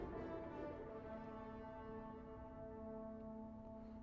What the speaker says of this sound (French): il fout des coups de klaxon dans un garage